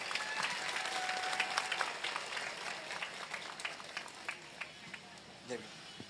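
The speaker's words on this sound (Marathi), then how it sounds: "एक मोठा टाळ्यांचा हात सरांसाठी होऊन जाऊ देत प्लीज" A seated audience at a public speech event gives the organiser a sustained round of dense clapping that gradually thins out, with voices faintly mixed in.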